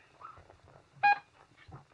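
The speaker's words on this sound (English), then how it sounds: "you've heard the collision alarm" A ship's collision alarm in a radio drama gives one short, loud electronic tone that cuts through quiet, murmuring voices.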